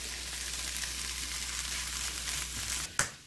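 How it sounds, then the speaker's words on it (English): Garlic sizzling in a pan while being stirred, a steady close sizzle ending in a short clatter. "Got to keep that garlic moving so you don't burn it"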